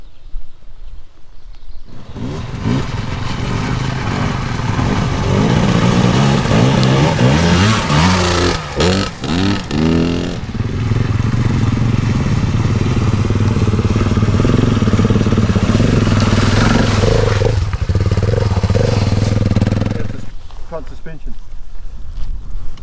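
An adventure motorcycle riding a trail in the Avoca and Harper valleys of New Zealand: a loud, steady engine drone with revving swells and wind noise starting after a short quiet lead-in, while people talk over it.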